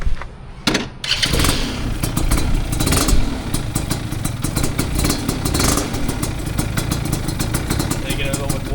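A modified motorcycle engine starts up and runs loud and close outdoors, revving with throaty roughness and a continuous rapid firing pulse.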